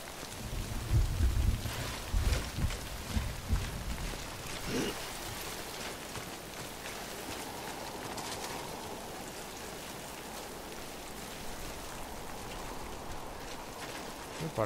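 Steady rain hiss in the video game Death Stranding, with a few low rumbling thumps near the start, then an even wash of rainfall that holds through to the end.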